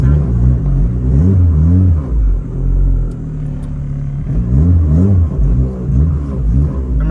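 A turbocharged all-wheel-drive Honda Civic FB6 at full throttle, its engine loud and close, surging in repeated rising revving pulls with brief lifts between them, and faint talk underneath.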